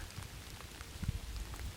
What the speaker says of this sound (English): It started to rain in the forest.